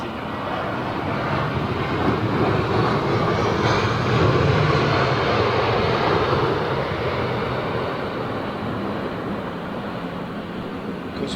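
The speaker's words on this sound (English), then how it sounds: "We do from time to time see Middle East Airlines bringing their A330 into London Heathrow" Middle East Airlines A330 airliner arriving at London Heathrow in windy weather, a steady broad jet roar mixed with gusty wind noise, fairly loud and even throughout, no talk.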